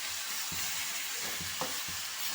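Crab curry masala with curry leaves, coriander, ginger-garlic paste and tomato being stirred in a frying pan, a soft sizzle underneath repeated scraping strokes of the spoon at a steady rhythm, close and moderately quiet.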